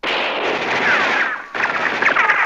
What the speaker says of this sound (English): the referee raised his pistol to signify the end of the first half